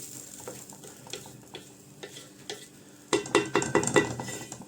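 A pot of soup with peas and chicken simmering on a home kitchen stove gives a low bubbling sizzle, followed after a few seconds by louder clattering of a spoon stirring against the pot.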